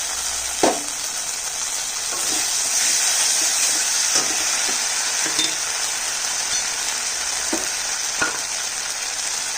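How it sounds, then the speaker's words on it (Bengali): Cashew, almond and poppy seed paste hits hot frying masala in a pan, giving a loud, continuous sizzle with occasional scraping stirs and small clicks, no voices. "এবার দিয়ে দিচ্ছি আমি, এখানে আছে কাজু আর আমন্ড আর একটু পোস্ত বাটা।"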